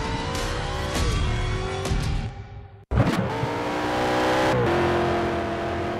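A race car engine in the driving game Need for Speed Shift revs hard through rising gear pulls, a brief cut, then climbs again loud and close with shifts.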